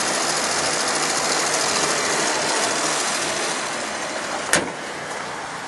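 A Mazda RX-7 series 8 twin turbo engine idles with a steady, smooth hum, quite even in level, with a brief sharp knock near the end.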